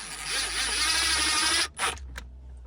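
Power driver fitted with a Torx 15 bit backs out a screw from an airbag squib mount on a VW Touran or Caddy, a steady close whirring that runs about a second and a half, then stops with a brief spin-up after.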